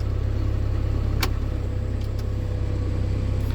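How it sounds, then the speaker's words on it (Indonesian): A 1995 Honda Genio scooter engine idles smoothly and steadily, a close low hum with a few faint clicks over it. "Ini suara mesin halus sekali ya"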